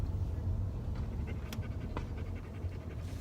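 A dog pants steadily inside a car, quick rhythmic breaths held close over a low engine rumble, with a couple of faint whimpers and no talking.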